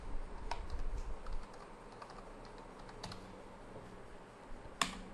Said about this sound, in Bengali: সো আমি এখন একটা পাসওয়ার্ড দিয়ে দিচ্ছি।